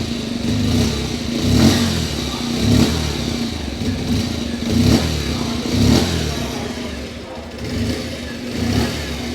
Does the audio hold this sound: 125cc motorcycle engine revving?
yes